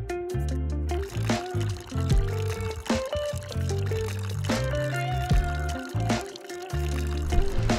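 Hot water poured steadily over a Blue Tokai Nachammai Estate Easy Pour coffee drip bag, a soft continuous trickle for about eight seconds beneath fairly loud background music.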